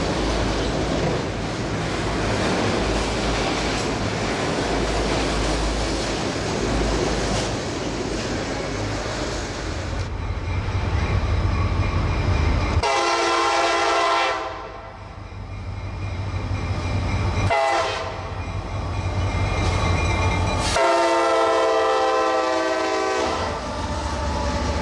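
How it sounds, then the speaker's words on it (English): A freight train rolls past with new, extra-tall auto racks at the rear, a long heavy rumble and rhythmic clatter of wheels, broken by loud sustained horn blasts partway through. "A set of brand new auto racks brings up the rear of the train."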